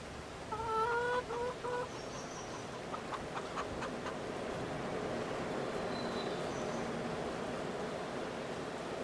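Chickens cluck on a farm in a farming video game, a few close clucks at the start followed by softer scattered clucks over steady ambient noise.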